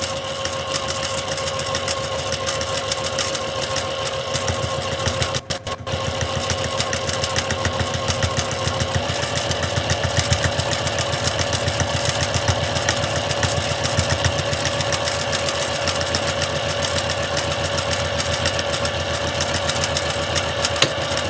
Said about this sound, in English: I'm going to give it a back stitch and off I go.